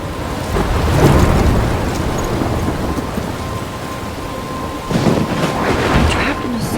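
Loud, steady rain pours during a thunderstorm in the video game Life Is Strange, with heavy rolling thunder swelling early and again later over the constant wash of rain.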